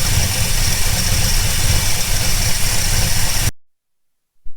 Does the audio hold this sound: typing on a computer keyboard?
no